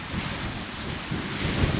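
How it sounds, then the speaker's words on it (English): Strong wind buffets the microphone on the Cardiff foreshore during sea fishing, a loud continuous roaring rumble with gusty surges and possible surf beneath, no voices heard. "I'm still getting battered a little bit by the wind"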